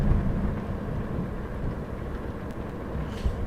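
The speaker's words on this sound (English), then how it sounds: "I've never been through a storm that's been this bad with lightning, and dang, it's going crazy for me" Steady rumble of thunder and rain rolls through a heavy lightning storm in American Truck Simulator, a continuous low roar with a brief crackle near the end, heard on its own.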